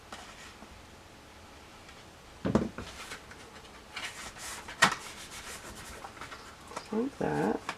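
Score tape is pressed and burnished down by hand, making soft scattered rubbing and scraping strokes. Quiet brief bursts of friction come in short passes, with a sharper scrape near the end.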